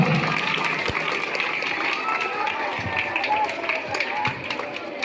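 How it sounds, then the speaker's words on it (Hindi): Students and guests at a school Republic Day gathering applaud to welcome a speaker, giving a steady, dense clatter of clapping that holds at moderate loudness throughout. "एक बार तालियों से स्वागत करें सर का।"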